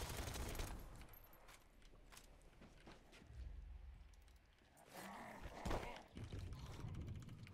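Rapid pistol shots in the zombie video game Dead Island 2, a quiet cluster of sharp bursts with scuffling movement and grunts between them and no talking over the top.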